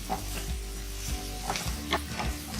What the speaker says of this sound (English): Start roasting it on a medium flame. And keep stirring it while you are roasting it.